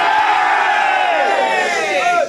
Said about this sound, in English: Big cheer, I think.